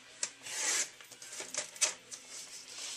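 Whisper White cardstock being cut on a paper trimmer, a faint series of soft scraping and rubbing strokes with small taps, close and quiet, without talk.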